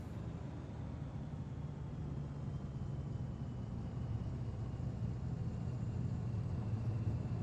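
A Carenado B55 twin-engine plane taxis in MSFS 2024, a steady, low engine rumble and drone holding even and continuous throughout with no voices.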